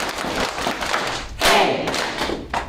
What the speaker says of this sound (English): every time we clap, you're going to say hey.